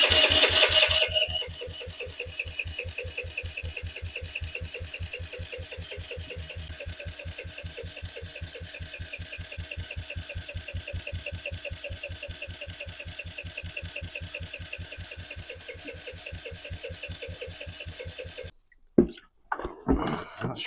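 A Kawasaki KFX50 ATV is cranked over repeatedly in a long, fast, rhythmic chugging attempt to start, steady and fairly loud, with a sharp burst at the beginning and clatter near the end.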